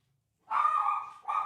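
A dog lets out a short bark followed by a second quick yip, close by and fairly loud after a moment of silence.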